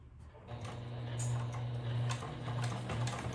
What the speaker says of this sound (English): Now I'm going to start to sew.